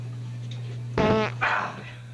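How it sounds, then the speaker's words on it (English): A short squeaky fart, a little squeaker, lasts about a third of a second with a ragged tonal buzz. A brief second puff follows, all over a steady low hum. "Can you fart? Yeah, I could let a little squeaker out."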